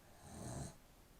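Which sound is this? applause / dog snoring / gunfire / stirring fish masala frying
dog snoring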